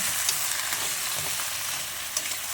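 Crab sizzles in a hot pan with spring onion and ginger, a dense steady frying hiss, close and loud, with occasional pops and stirring scrapes and no talking.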